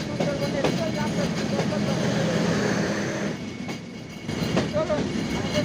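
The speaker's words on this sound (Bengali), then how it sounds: "আমাদের ট্রেন এসে মোবারকগঞ্জ রেলওয়ে স্টেশন থেকে আবার যাত্রা শুরু করলো" The Sundarban Express pulling out of Mobarakganj railway station, a steady close rumble of moving carriages with clattering wheels that briefly eases before picking up again, with people talking nearby.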